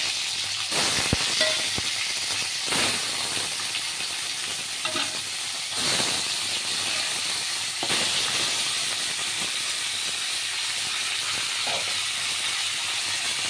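Pomfret fish frying in a pan with chopped onion and slit green chilli, a steady loud sizzle and hiss running throughout with occasional stirring scrapes, no voices.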